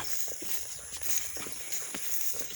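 Footsteps crunch along at a relaxed walking pace over leaf litter, each step soft and near, against a high, constant buzz of forest insects.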